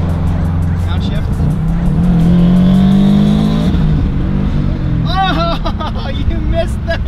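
A Mazda Miata with an open downpipe revs hard, its pitch climbing to a loud, raspy peak before dropping. Excited voices shout over the engine near the end.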